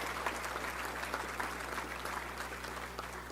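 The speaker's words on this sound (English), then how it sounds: "beating cancer is worth a round of applause" Sustained applause from a luncheon crowd at a touchdown club meeting, a continuous wash of many hands clapping at moderate distance over a low steady hum.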